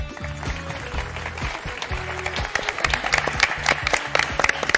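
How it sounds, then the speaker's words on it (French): Studio audience applause on the French game show Motus, a dense, steady wash of clapping that swells slightly toward the end, with background music tones underneath and no clear talk. "ces applaudissements pour vous encourager"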